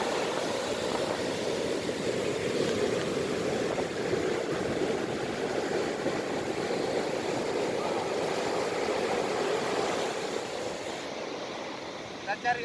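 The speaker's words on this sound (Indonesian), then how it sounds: "Kita cari ombak yang agak besar sedikit." Sea waves washing steadily onto a beach in West Aceh, a continuous broad rushing surf roar that holds at an even level for the whole stretch with no talk over it.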